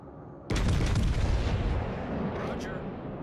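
Battleship main guns in World of Warships Legends firing a single heavy boom that rolls into a long rumbling tail, loud and close with a voice briefly heard.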